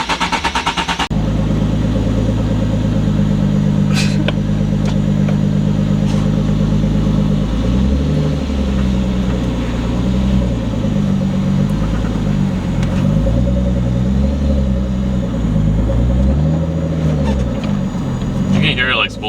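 A 600 HP twin turbo Nissan 370Z engine rumbles loud and close, with rising and falling drone as the revs climb and the turbos spool, under people talking.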